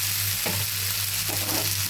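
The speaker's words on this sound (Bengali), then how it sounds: "আমি কিন্তু কড়াইতে থেকে আবার হচ্ছে তাওয়াতে ভাজিটা ঢালে নিচ্ছি, কারণ তাওয়াতে ভাজলে অনেক সুন্দরভাবে ভাজি লেগে যায় না" A flat bean and potato stir-fry with tomato sizzles steadily in a hot pan, a close, continuous frying hiss with brief stirring scrapes and no speech.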